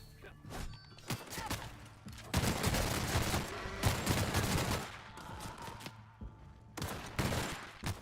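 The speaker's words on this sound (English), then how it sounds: "I like the minigun too." Minigun fire in the video game The Outer Worlds comes as sustained rattling bursts separated by short pauses. The shooting is dense and loud, with some faint mechanical clunks between the bursts.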